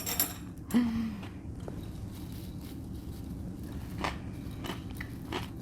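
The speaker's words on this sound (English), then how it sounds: "You heard the crunchy noises." Oil-free shoestring hash browns crunch as they are eaten, giving a few quiet, close bites spaced over a low background hum.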